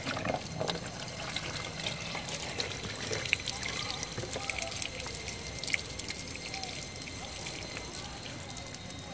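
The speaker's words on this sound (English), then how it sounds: "let's see what will happen if I pour the water into this compartment" Water pours and trickles steadily into a car door compartment, a soft continuous splashing with faint drips, fairly quiet and with no talking.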